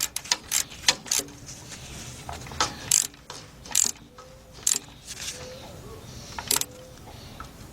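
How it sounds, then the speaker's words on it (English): Ratchet tightening the starter bolts on a Ford Econoline E150 in a tight space: a string of short, sharp ratcheting clicks in irregular bursts, fairly close and loud, with only a short swing between strokes. "Get our ratchet, and let's tighten that up."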